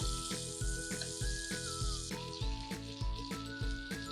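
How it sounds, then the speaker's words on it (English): Butter melts in a frying pan over medium heat, giving a steady bright sizzle and crackle laid over a rhythmic backing of music, with no voices. "Melt the butter in a frying pan over medium heat."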